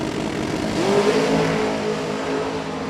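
Vintage Trailers dragster and a rival car launching down a drag strip at a fall racing event, a loud sustained engine roar with a rising whine, steady and heavy throughout, heard from trackside.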